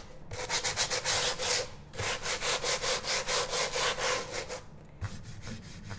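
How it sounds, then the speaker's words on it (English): Rapid back-and-forth strokes of sandpaper rubbing on wood by hand, a steady rasping rhythm in several bursts with brief pauses between them, close up. "So I'm sanding."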